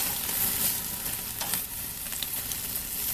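Bacon-wrapped asparagus sizzles loudly in a hot pan over a flame, a dense, constant frying crackle with small pops and no voices.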